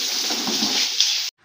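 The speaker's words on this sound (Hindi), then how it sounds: "और यहाँ पे मम्मी पानी डाल दिए पौधों में" Water poured from a container onto potted plants at home, a steady close splashing gush lasting about a second before stopping abruptly, with no talk.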